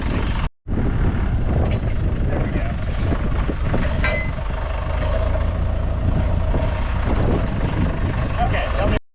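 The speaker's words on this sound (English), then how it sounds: "Now you just need to maneuver the forklift to get this motor out of here." A forklift works to lift a motor out, its engine droning loudly and steadily with mechanical clanks and rattles, and voices talking over the machinery throughout.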